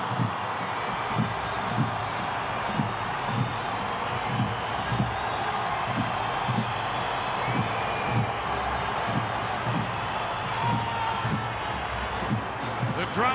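A crowd builds at Belmore stadium for a Canterbury Bulldogs NRL home match against the Sea Eagles. Steady murmur and a regular drumbeat thump underneath a commentator talking over it.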